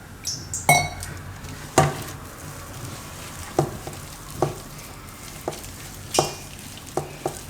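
Repeated clinks and scrapes of a utensil against a bowl at an uneven rhythm while flour-and-water batter for karela bhajiya is mixed, close by.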